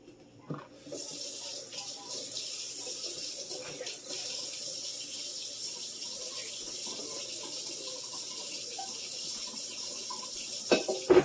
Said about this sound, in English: Now I'm going to get my pot and we're going to fill it with water.